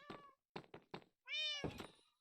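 A cat in a video game meows several times in short clipped calls, then gives one longer drawn-out meow, close and clear with no talk over it.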